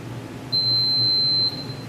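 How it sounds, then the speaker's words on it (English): A sterilizer gives one clean, steady electronic beep lasting about a second at the end of its cycle, clear over a quiet background hum. "Right, so there's our 1 beep and our green light."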